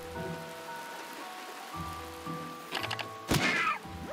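Video game acid rain patters steadily on a surface under low droning tones, with a few hollow thunks and a sharp splash-like burst near the end.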